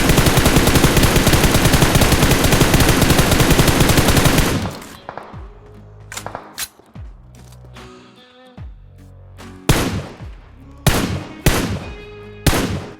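Gunfire in the mobile battle game BGMI (PUBG Mobile), with a long dense burst of rapid automatic fire and then several separate sharp shots with quieter gaps between them, loud and close.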